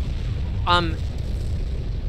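A boss blows up in the shooter game Gradius V, a steady low rumbling roar under a brief spoken voice.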